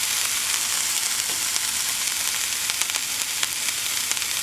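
Onions for an Irish stew fry in a pot with a loud, dense and continuous close sizzle, with faint stirring scrapes mixed in and no talking.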